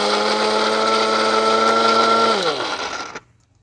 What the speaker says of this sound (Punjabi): ਮਿਕਸਰ ਔਨ ਕਰ ਦੇਣਾ।